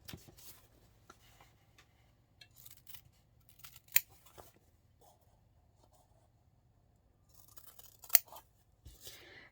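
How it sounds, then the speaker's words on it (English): Quiet scattered snips and rustles, with two sharp crisp cuts of sharp scissors through fabric standing out amid soft handling noises in a hushed room. "you just want to snip to it, so sharp scissors are a must."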